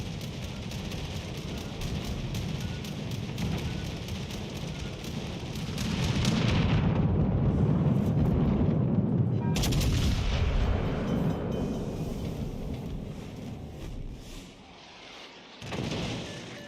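Rapid-fire HE naval cannons boom in the World of Warships Legends game, heavy blasts rolling into one another with a sustained low rumble that swells midway, then a final thud near the end, with no talking.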